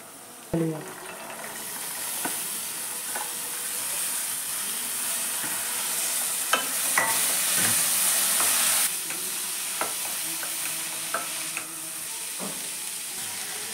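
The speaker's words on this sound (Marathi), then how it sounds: "आता मी घालते ही फरसबी आहे, मी बारीक चिरून घेतलेली आहे।" Finely chopped green beans sizzle in a hot pan as a utensil stirs them, a steady frying hiss with occasional scrapes and clinks close by, starting after a sharp drop into the pan.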